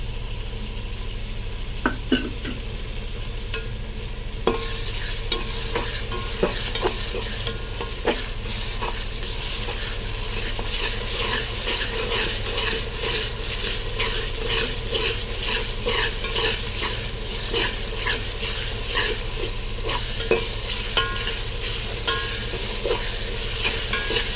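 Garlic paste frying in a pan for onion-free Ambur chicken biryani, a continuous close crackling sizzle with steady stirring scrapes that grows busier partway through, with no voices.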